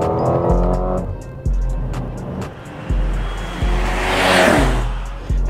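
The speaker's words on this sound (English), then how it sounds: "Inside, this M139 engine sounds absolutely mad." Heard from inside the cabin, the M139 engine of a Mercedes-AMG GLA35 revs up strongly and repeatedly, with sharp drops and pops at each gear change, loud and close, mixed with road and wind noise.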